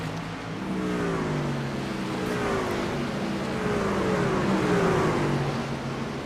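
Several racing truck engines in a truck racing sim drone together, their pitches sweeping up and down as they jostle for position. The roar is steady, moderately loud and unaccompanied by talk.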